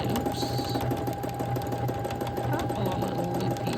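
Sewing machine stitching free-motion quilting loops, a steady close mechanical hum and fast needle rattle continuing throughout.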